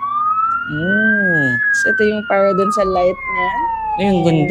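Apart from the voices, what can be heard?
toy ride-on fire truck siren, Little Rider PH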